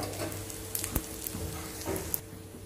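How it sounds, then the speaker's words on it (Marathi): A bread slice frying in a pan on a gas stove turned low, soft continuous sizzle with faint crackles and small pops close up, no voices. "आता याला आपण इथे हळूच दुसऱ्या साईडने पण आपण याला फ्राय करून घेऊ."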